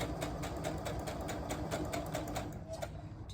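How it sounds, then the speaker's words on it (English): Sewing machine stitching a small fabric pouch, a fast, even mechanical chatter of needle strokes running steadily and close, quieting slightly at the end. "If you do have a sewing machine, it really is so quick to make."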